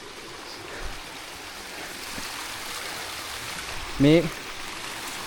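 A mountain stream on Kothalagala Mountain flows with a steady, even rushing hiss that fills the whole clip, while a single short spoken word cuts in briefly near the end.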